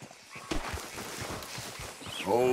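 Horse hooves in Red Dead Redemption 2, soft irregular clopping at a walk, fairly quiet, with a voice speaking over them.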